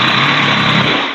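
A loud, steady mechanical whir of an impact driver running as screws go through sheetrock during an electrical outlet remodel, heard up close for about a second with no talk.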